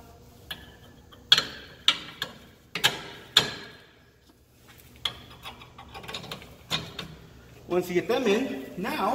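A ratchet tightening suspension bolts on an SN95 Mustang gives a series of sharp, close clicks and knocks, followed by a quicker ratcheting burst at the end, with someone talking intermittently.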